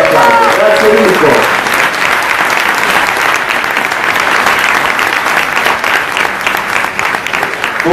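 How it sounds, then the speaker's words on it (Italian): Loud, sustained applause fills the hall at a national political party assembly, a dense crowd clapping steadily throughout with a voice over it at the very start. "Mirko De Carli, che io ricordo a tutti con un bel applauso."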